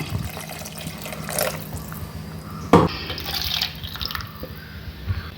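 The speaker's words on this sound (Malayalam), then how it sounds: "ഇനി ഇതിലേക്ക് ആവശ്യത്തിന് വെള്ളം ചേർത്ത് വേവിക്കണം" Water poured into a pot of vegetarian fish-style curry with soaked tamarind, splashing and trickling in uneven bursts close by, with a brief louder splash midway.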